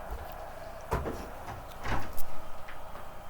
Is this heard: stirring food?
no